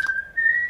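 A person whistles one clear, steady high note that holds for under a second with a slight pitch shift partway through, close and alone.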